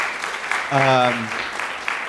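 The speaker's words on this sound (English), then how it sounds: "We should give her a round of applause for sharing her experience with us" An audience applauds a woman who has just shared her personal experience at a talk, the steady clapping lasting the whole stretch while a voice briefly rings out over it midway.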